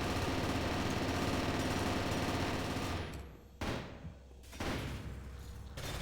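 An SRS rifle fires in a 3v3 tournament match, with dense, loud shooting and game noise followed by two distinct sharp reports in a quieter stretch.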